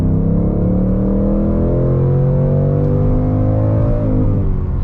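A 2019 Ford Mustang Bullitt V8 downshifts and revs hard, a loud close rumbling engine note with pitch rising and swelling steadily throughout, with no voices.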